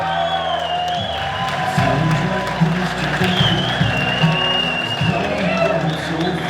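Wedding guests applaud and cheer for bride Taylor and her dad Michael, a steady roar of clapping and whoops filling the reception hall while voices talk over it.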